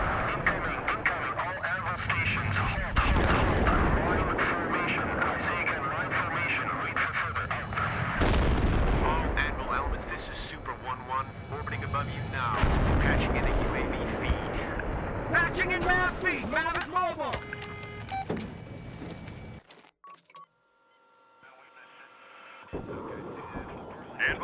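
Incoming artillery fire in the video game Battlefield 3, heavy booms and rumbling blasts rolling one after another under shouted voices, before dropping briefly to near quiet and resuming.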